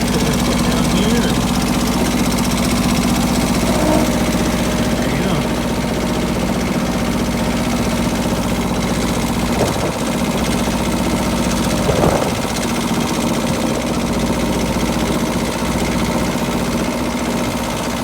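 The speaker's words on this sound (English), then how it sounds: "I like to let my diesel warm up a little bit." A 2020 diesel engine idling steadily as it warms up outdoors in the snow, a loud continuous low rumble with a faint knocking texture, unchanging throughout.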